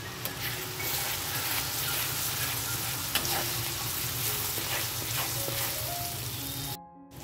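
Ginger and green chili paste frying with spices in a pan for a Bengali pointed gourd dish, a steady loud sizzle with stirring scrapes throughout, cutting off abruptly near the end.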